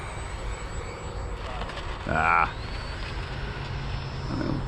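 An L-39 jet's engine on landing approach gives a steady whining drone throughout, rising in a brief surge as throttle is added, while someone talks over it.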